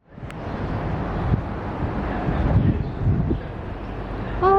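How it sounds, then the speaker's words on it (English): Breezy wind outdoors buffeting the microphone as a continuous low rumble that swells and eases, with a brief voice at the very end. "Oh, it's really nice weather today. So breezy."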